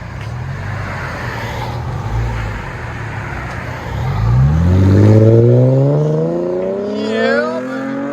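A 2012 Cadillac CTS 3.6L V6 with a muffler delete and 4-inch tips idles with a low rumble, then revs up loudly through a deep, raspy exhaust, rising and falling in pitch before easing off.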